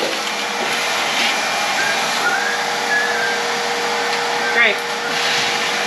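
A vacuum cleaner runs continuously inside a Ford truck cab, a steady whooshing hiss with slight pitch shifts as the nozzle moves, close and loud, while a person briefly speaks over it.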